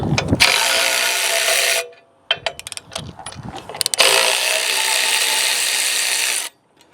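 A 17mm ratchet wrench loosening the bolts of an equipment guard, giving a steady, close, rapid clicking that runs in two long bursts split by a short pause full of irregular clicks and knocks.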